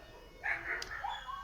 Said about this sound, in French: le chien des voisins qui aboie